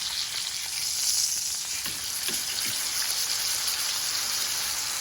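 Steak sizzling in a frying pan after being flipped: a steady, dense hiss of frying fills the whole stretch at close range, with a few faint knocks and no voices.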